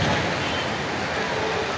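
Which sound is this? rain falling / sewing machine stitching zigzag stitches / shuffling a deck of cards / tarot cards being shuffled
rain falling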